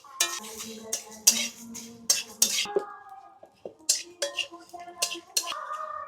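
Whole spices (bay leaves, cardamom, cinnamon, cloves and dried red chillies) are gently fried in a wok taken off high heat. A metal spatula scrapes and clanks against the wok in irregular, ringing strokes, close and clear.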